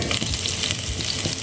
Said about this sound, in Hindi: ये देखिए मसाले पक रहे हैं। मसाले से बबल्स निकल रहे।